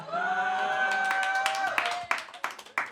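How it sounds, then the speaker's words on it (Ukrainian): At a stand-up comedy show, a sustained voiced drone from the crowd gives way to a handful of scattered, sharp claps from the audience that are fairly close and moderately loud. "ці оплески і ці о означають, що вам скоро 30, ребята"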